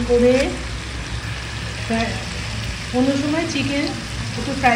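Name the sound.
chicken frying with spice masala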